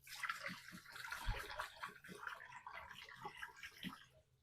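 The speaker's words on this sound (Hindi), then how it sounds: "फटाफट धो, पानी यहाँ से निकल जाता है" Rice is rinsed with water in a rice-washing strainer in a home kitchen, giving faint, close splashing and sloshing with short bursts of running water and draining trickles.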